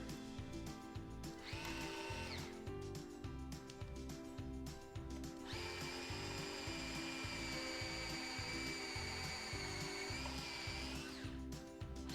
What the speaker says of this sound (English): Drill a couple of pilot holes here.